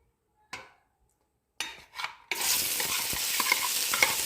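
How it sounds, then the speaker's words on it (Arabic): Onions drop into hot Mazola oil and burst into a loud, continuous sizzle after a few short clinks and stirring scrapes, with the frying holding steady and close until the end. "اول شغلة راح اخلي الزيت يحمى عندي، بعدين مباشرة انزل فوق البصل"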